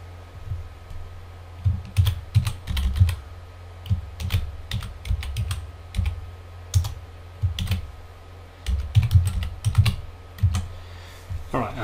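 A computer keyboard types a line of VBA code into a spreadsheet editor: steady bursts of close, crisp key clicks with short pauses between words, loud against a quiet room.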